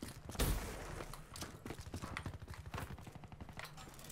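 Rapid gunfire in the Black Ops 3 video game, with bursts of automatic shots rattling in quick succession after a louder blast, fairly faint and steady throughout.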